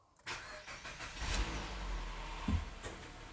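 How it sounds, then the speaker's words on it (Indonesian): A car engine cranks and fires up after battery water has been drained, with the starter whirring into a steady, fairly loud idle that carries on to the end. "Yang penting pastikan mobilnya bisa hidup dulu, supaya akinya bisa ngecas menggunakan alternator ya. Saya coba start."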